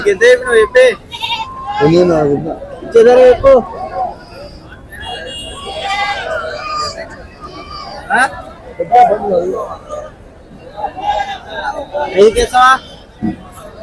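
Goats bleat repeatedly amid a noisy crowd at a livestock market, several calls rising over steady background chatter and voices nearby.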